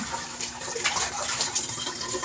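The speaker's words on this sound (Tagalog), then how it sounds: "Kailangan yung malunggay, hugasin. Hugas-hugasin." Moringa (malunggay) leaves are rinsed in a basin of water, giving close, continuous splashing and swishing.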